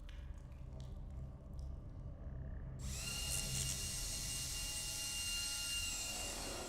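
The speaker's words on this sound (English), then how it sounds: "Drill the thing." A drill whirs in the video game Stasis, starting suddenly partway through as a loud, steady, high mechanical whine over a low rumbling background drone.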